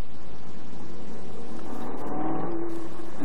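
A Lamborghini Gallardo driven on a junior supercar driving experience accelerates hard, its engine note building into a loud, rising roar heard from inside the car, with no talking.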